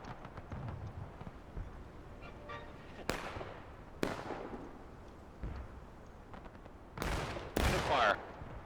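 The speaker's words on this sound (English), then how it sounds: "these gentlemen on the cannons are doing good work tonight" Cannon fire at a night-time Civil War reenactment battle, with several sharp, booming blasts at irregular intervals, some near and loud, over a steady background of outdoor crowd and field noise.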